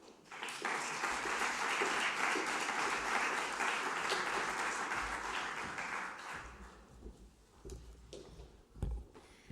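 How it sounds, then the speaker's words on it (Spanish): Audience at the official inauguration of a Spanish-language conference in Logroño applauding steadily for about six seconds, then thinning out to scattered claps and a few bumps. "pedimos un aplauso y que venga ya con nosotros la alcaldesa de Logroño, Cuca Gamarra"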